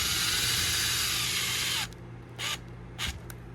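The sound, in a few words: screw being driven in during airsoft gun install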